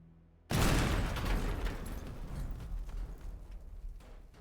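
Loud explosions erupt in a video game after a moment of quiet, a sudden heavy blast followed by crackling, rumbling debris that slowly fades.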